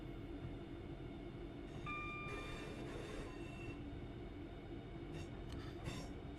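Simulated train rolling along rails on the Redditch Branch of Birmingham Cross City in Train Sim World 3, a steady broadband rumble of wheels and carriage running throughout with faint tonal squeals and a brief rattle mid-way, no talk.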